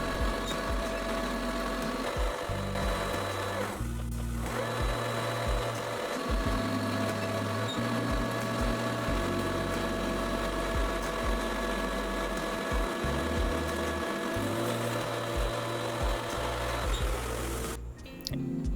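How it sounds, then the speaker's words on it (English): An older lathe taking a cutting pass on a workpiece, a steady mechanical hum and whir with a rhythmic knocking drone running continuously, close and fairly loud, with no talking. "Pretty cool thing about this older lathe is that if you didn't get the finish you wanted, you just add the material back on and then take another pass."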